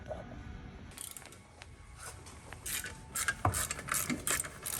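A ratchet works on bolts around the clutch of a turbo Falcon, making quiet rapid clicking bursts up close, with faint metallic clinks in between.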